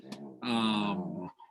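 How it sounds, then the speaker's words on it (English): A dog in the background of a room lets out a single drawn-out, whining growl that is fairly close and clear. "if you hear my dog in the background"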